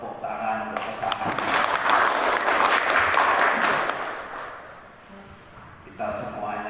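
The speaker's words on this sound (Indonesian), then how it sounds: "Tepuk tangan untuk pesanan." An audience at a mass land endowment pledge ceremony applauds steadily, swelling then tapering off, with a voice returning over it at the close.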